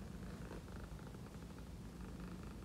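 A pet cat purrs steadily and softly up close, a continuous low rumble with a slight hiss of room noise.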